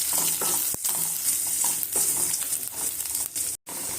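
Three large onions sauté in a pan for pepper chicken, crackling in a constant close sizzle broken by spoon scrapes and one brief silent gap near the end.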